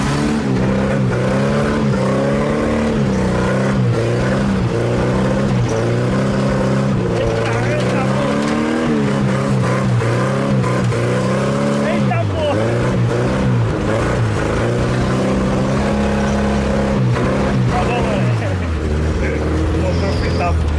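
A Chevrolet Chevette engine revving hard and continuously while the car drifts, loud and close from inside the cabin, with voices talking over it throughout.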